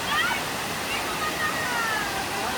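Several monsoon waterfalls near Adoshi rush with a steady, broad roar of falling water heard close by, with a faint whistling tone riding over the constant noise.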